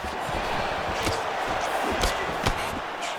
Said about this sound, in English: the crowd pops in appreciation